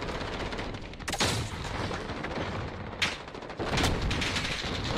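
Gunfire in the video game Warzone, with dense rapid bursts of shots across the whole stretch and sharper loud cracks rising above the barrage, close and unbroken, no voices.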